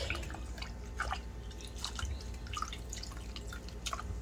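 Dirty, murky water dripping from a Norwex cleaning cloth while cleaning an entry hallway, a string of small wet drips and squishes spread across a few seconds, close and fairly quiet.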